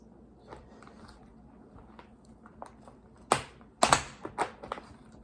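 Cutting through a plastic plant pot rim with scissors, a few faint snips early then a cluster of sharp crackling snaps and cracks, close and irregular.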